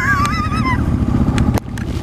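A Honda XR650L dual-sport motorcycle riding in circles in the Cherokee National Forest, Tennessee, its single-cylinder engine a steady low rumble under wind noise, with a short high whine and a brief clack near the end.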